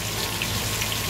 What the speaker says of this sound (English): Check out that sizzle.